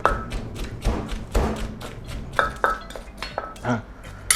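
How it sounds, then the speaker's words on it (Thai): A pestle pounds spices in a som tam mortar while chilies are crushed for a mackerel chili paste, giving a run of irregular thuds and clinks, close and fairly loud, with no talk. "ก็โขกเครื่องต่างๆ ก่อนนะครับ อันนี้สังเกตนะผมใช้เป็นโคกตำส้มตำนะครับ"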